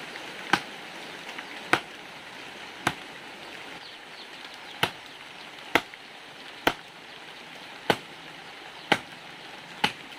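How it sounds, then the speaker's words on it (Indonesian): Chopping chocolate with a knife, about ten sharp evenly spaced chops over a soft steady background hiss, close and fairly loud. "Hari ini saya mau potong coklat"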